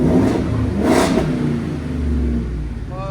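From inside the cab, a 7.3L gasoline V8 running without its resonator revs sharply once, climbing loud and bright, then settles back toward a deep, steady idle rumble.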